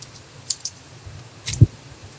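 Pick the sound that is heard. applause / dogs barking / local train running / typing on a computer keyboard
typing on a computer keyboard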